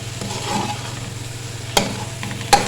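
Grated carrots roast in ghee for carrot halwa, giving a soft frying crackle under a low steady hum, with two sharp spoon-against-pan clanks near the end and no voices.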